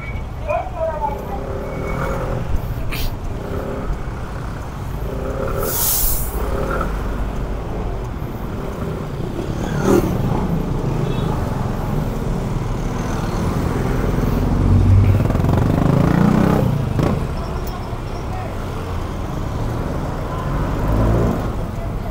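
Road traffic around a Kymco Skytown 150 scooter caught behind a truck in a counterflow lane, a continuous rumble of engines with passing vehicles swelling and fading, loud and close.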